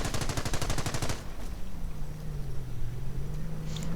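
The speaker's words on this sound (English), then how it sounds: "30 caliber opening up on the stormtroopers. 50 caliber joining in." A .30 and .50 caliber machine gun opens up on stormtroopers in a World War II strategy video game, a loud rapid burst for about a second, then quieter battle ambience and engine rumble.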